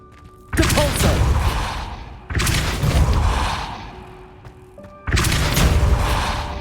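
Depulso pushing spell from a Harry Potter video game: three heavy, forceful whooshing thumps, each starting abruptly and decaying over about two seconds, loud and close.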